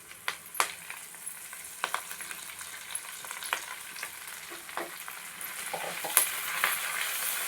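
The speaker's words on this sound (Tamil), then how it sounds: "உருவி சுத்தம் பண்ண கீரையை முருங்கைக்கீரையை இதில் நம்ம சேர்த்துடணும்" Drumstick leaves hit a hot pan and sauté with a soft sizzle, broken by occasional clicks and scrapes of stirring, fairly quiet and close.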